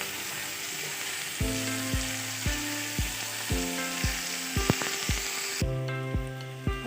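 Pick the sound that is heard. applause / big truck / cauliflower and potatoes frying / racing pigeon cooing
cauliflower and potatoes frying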